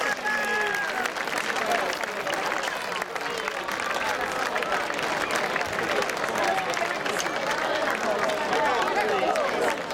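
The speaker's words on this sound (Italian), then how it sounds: "Un grande applauso al gruppo folk di Villanova Monteleone, Giovanni Lai all'organetto." A crowd gives sustained, dense applause for a Sardinian folk group from Villanova Monteleone with an organetto player, the clapping steady and loud throughout with faint murmuring voices mixed in.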